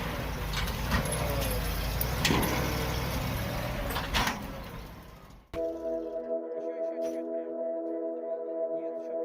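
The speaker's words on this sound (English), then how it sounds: "The GAZ 3307 with its trunk full of bulky straw rolls is swaying on the dirt road." A GAZ 3307 truck loaded with bulky straw rolls sways along a dirt road, its engine a steady rumble with broadband rattle, then a sharp change to a lower, tonal idle drone with faint knocks.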